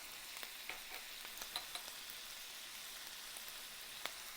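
Minced beef frying in a pan with spices for samosa filling: a soft, steady sizzle with frequent small pops and crackles, faint and close, with no voices.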